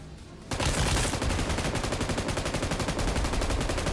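Sustained rapid M249 machine gun fire from a video game, a dense, loud stream of shots after a brief quiet start.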